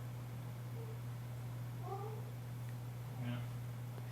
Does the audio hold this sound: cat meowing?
yes